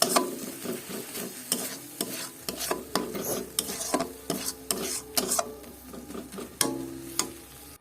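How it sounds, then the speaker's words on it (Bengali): Tomato and nut paste for matar paneer stir-fried in a pan, a steady sizzle broken by repeated scraping strokes of a spoon at an uneven rhythm, close and fairly loud with no voices. "টমেটো বাদামের যে পেস্টটা ওটা দিয়ে দিলাম। দিয়ে ভালো করে কষাবো।"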